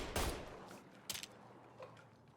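Enemy gunfire in the video game Mafia III, a few sharp, scattered shots, one louder burst and several fainter cracks spaced apart, fairly quiet overall.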